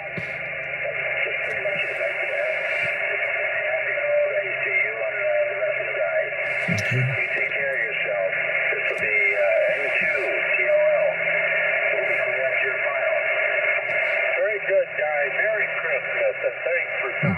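Noisy amateur radio reception on a battery-powered Yaesu FT-857D: a band-limited hiss with faint garbled voices and bursts of static, steady throughout, with one brief spoken word.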